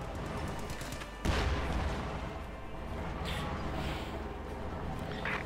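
In the Company of Heroes 2 game, a Panzer IV and a Sherman tank exchange fire, heard as a dense low rumble with a sharp cannon-like burst and a few scattered distant impacts.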